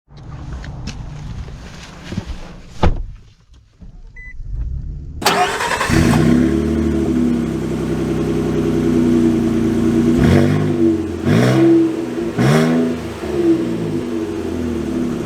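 2023 Nissan Frontier Midnight Edition pickup starting up, a few quiet clicks and a cranking whirr before the engine catches, then a loud close idle broken by several sharp revs rising and falling.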